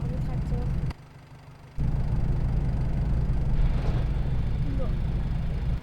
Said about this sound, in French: Hop, on démarre le tracteur.